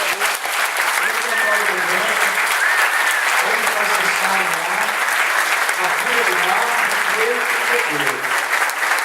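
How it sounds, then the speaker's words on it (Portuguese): Sustained congregational applause in a church during a sermon, steady and full throughout, with a voice speaking or singing over the clapping. "Vamos dar um aplauso para Jesus."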